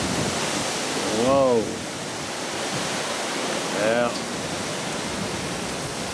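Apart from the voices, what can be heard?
strong hurricane wind, Hurricane Isaac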